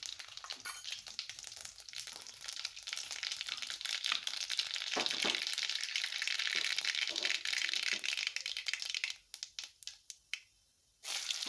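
Mustard seeds and cumin fry in hot oil in a pan, making a dense crackling sizzle with scattered pops that thins out into sparse sharp crackles and brief quiet gaps near the end.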